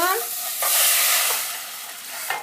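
Meat-stripped bones and a little onion sizzle gently in a pan over low heat, a soft steady frying hiss with a few stirring scrapes, close and continuous with no talking.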